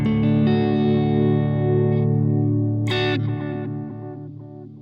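A guitar plays through a dual delay with heightened modulation depth, giving a slightly detuned, chorused shimmer. A sustained chord rings, a brighter strum comes near the three-second mark, and then a long wavering decay fades out without talking.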